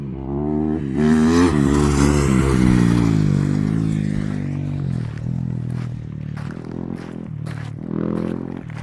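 A motorcycle pulling a wheelie roars past at close range, its engine revving hard and rising in pitch before easing off and fading as it moves away.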